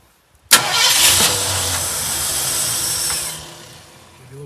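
A 1972 Ford F100 pickup, sitting unused for years, cranks briefly then fires up into a loud, steady running engine that holds for about three seconds before settling and fading slightly, with no talk over it.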